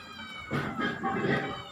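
A kitten meows close by in a rural Thai home kitchen where beef leg soup is being cooked, two or three plaintive cries in quick succession against a faint background hum.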